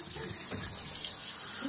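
Water runs steadily from a tap while a face mask is rinsed off, a continuous close gushing hiss with no break.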